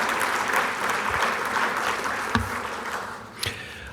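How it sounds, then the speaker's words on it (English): At a county sports hall of fame ceremony, a crowd applauds steadily, close and full, with a few sharp knocks and thumps near the middle and end as the clapping thins out. "give yourselves a round of applause"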